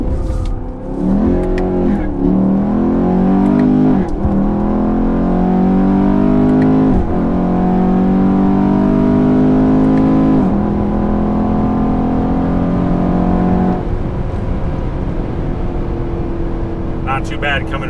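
Camaro or Corvette with an 8-speed automatic accelerating hard from a standstill: a loud engine rising in pitch through several quick upshifts with brief dips between gears, then easing off, with someone talking over it.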